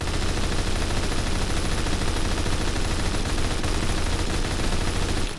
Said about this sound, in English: just fire like 100 shots and 2 of them hit